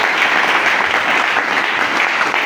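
A church congregation applauds in a dense, sustained burst of clapping. It is loud and continuous throughout, with no clear speech above it.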